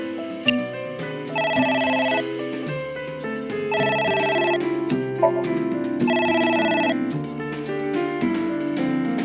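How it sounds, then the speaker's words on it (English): In the video game AI: The Somnium Files, a telephone rings in repeated bursts of a bright electronic trill, three evenly spaced rings over steady background music. "It's ringing again."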